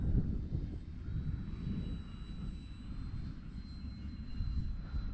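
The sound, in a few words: Dynam Skytrainer 182 RC model airplane flying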